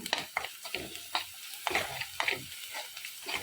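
Chilli powder and salt sautéed in a pan for fish manchurian, a sizzle broken by a rhythmic series of loud stirring scrapes and clatters, with no talk.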